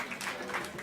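A brief burst of audience applause at a Dutch stage event, many hands clapping together in a short, even wash of sound.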